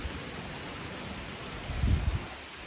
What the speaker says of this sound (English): the rain is coming down really hard